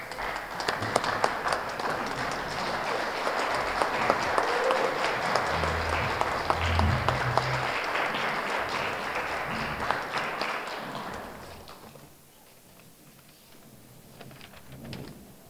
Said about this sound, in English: can we have a round of applause for our flag bearers?